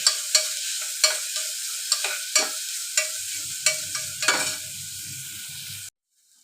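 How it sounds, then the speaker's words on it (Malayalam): Sliced onion with crushed ginger and garlic frying in oil for a vegetable biryani, a steady sizzle punctuated by sharp scraping stirs at an irregular rhythm, close and fairly loud, stopping suddenly. "സവാള നല്ലവണ്ണം വഴന്നു വരുമ്പോൾ ഇഞ്ചി വെളുത്തുള്ളി ചതച്ചത് ചേർത്ത് കൊടുക്കാം."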